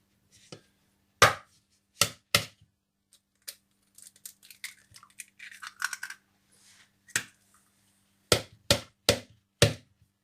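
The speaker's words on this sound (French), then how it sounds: "Donc, je vais casser mes œufs." Eggs are cracked into a mixing bowl for brioche pain perdu: sharp, close knocks come one at a time and then in a quick run of four near the end, with soft shell and liquid sounds between them.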